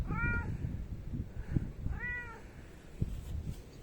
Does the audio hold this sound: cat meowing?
yes